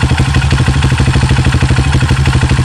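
A Honda CRF150L trail motorcycle idles steadily up close, its single-cylinder engine putting out an even, rapid thumping pulse with a light mechanical clatter.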